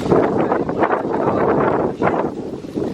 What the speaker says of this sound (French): Et Ilan, j'espère que vous allez m'entendre avec le vent, c'est chiant ce vent aujourd'hui.